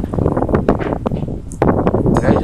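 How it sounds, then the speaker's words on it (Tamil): Steady low rumbling buffet of wind blowing into the microphone, gusting unevenly throughout and strengthening near the end. "காற்று ரொம்ப அடிக்குது"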